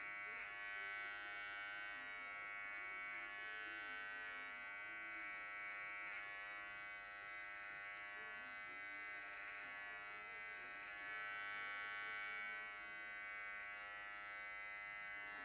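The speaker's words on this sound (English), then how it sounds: "the idea with the clipper over comb is to go up, up, up" Electric hair clippers buzz steadily and continuously through a men's short back and sides cut, clipper run over a comb up the head, faint and close with no talking.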